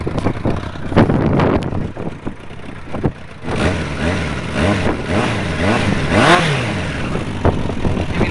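A vehicle engine idles and revs after an exhaust rattle repair, a close, rumbling tone that rises and falls through several revs, with some wind buffeting on the microphone.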